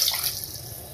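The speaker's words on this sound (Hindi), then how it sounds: "इसको देगची में डाल देंगे और 2 कप पानी डाल दें" Two cups of water are poured into a cooking pot of chopped raw mango, a short splashing gush that tapers off quickly within a second.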